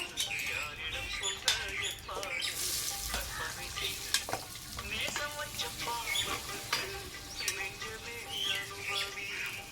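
Chopped shallots and garlic sizzle and crackle steadily in hot oil in a clay pot, with occasional stirring clinks and faint birdsong in the background.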